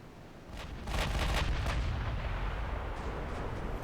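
Ship guns firing in the naval video game Shipyard Champions, a rumbling run of heavy booming shots that starts after a quiet half second, with several sharp blasts close together and then a long sustained roar.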